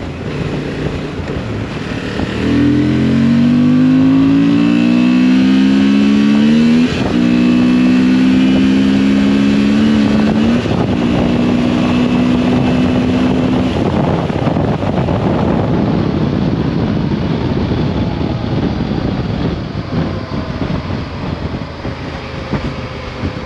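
A Honda Transalp 750 motorcycle accelerates hard through the gears at high speed, the engine note climbing in pitch with each gear before wind roar swamps it, loud and close from the rider's position.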